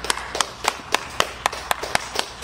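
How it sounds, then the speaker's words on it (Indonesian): A few people clap in a slow, uneven rhythm during a radio station podcast, with sharp individual claps about every quarter second, close and distinct, and no talking. "Tepuk tangannya dong."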